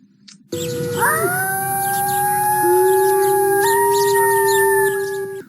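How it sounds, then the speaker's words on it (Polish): Several wolves howl together as a sound effect in a school stage production, long, sustained, overlapping tones that rise and hold, loud and close, with no talking. "Z głębi lasu dochodziło złowrogie wycie wilków"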